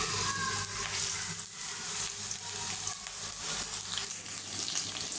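Onions frying in hot oil in a pan, a dense, steady sizzle that stays loud and close throughout with no talk.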